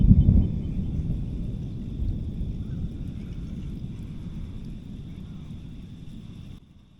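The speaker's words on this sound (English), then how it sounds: "That was so awesome how that thunder echoed right across the lake." A low rumble of thunder rolls out loud across a lake at first, then echoes and slowly fades over several seconds in open air.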